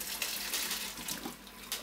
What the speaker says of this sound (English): the pasta is now ready to drain, so just put your colander in the sink